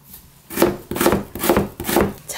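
Knife cutting radish into 0.5 cm julienne strips for salted radish kimchi, four crisp rhythmic chopping strokes against a board at close range, with no talk.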